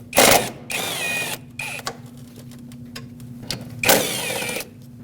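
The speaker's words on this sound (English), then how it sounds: "So use a 10mm socket and remove this mounting nut and that mounting bolt." A ratchet with a 10mm socket working a mounting nut and bolt in the engine bay of a Lexus IS250, giving short clicking bursts separated by pauses, close and fairly loud over a low steady hum.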